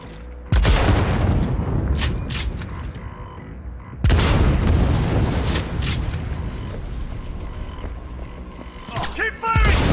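Heavy gunfire in the video game Cyberpunk 2077: two loud booming bursts with rattling, rumbling tails, the second followed by a sustained stretch of fire and clanking mechanisms, with voices shouting now and then.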